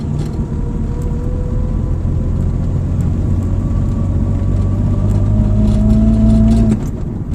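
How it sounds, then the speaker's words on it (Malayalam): A car accelerates on a road during a driving lesson. The engine hum is steady and close, and its pitch climbs, drops with a gear change, then climbs again before it eases off. "ഞാൻ ആക്സിലറേറ്റർ കൊടുത്ത് സെക്കൻഡ് ഗിയർ കൊടുക്കുകയാണ്"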